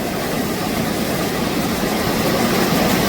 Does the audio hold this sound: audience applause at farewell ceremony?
no